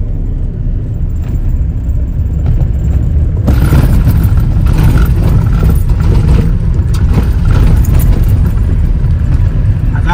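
Road traffic heard from inside an air-conditioned pickup on a dusty road: a loud constant low rumble of engine and tyres, swelling brighter partway through as vehicles pass.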